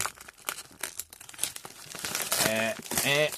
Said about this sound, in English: let's just open it as best as we can with the foil